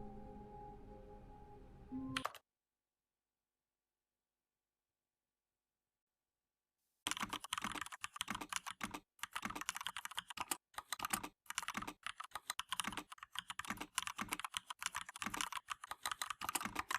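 Computer keyboard typing, loud and close, as rapid clattering keystrokes in uneven bursts with short pauses, coming in after a stretch of silence.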